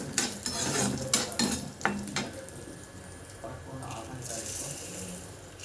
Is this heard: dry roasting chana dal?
yes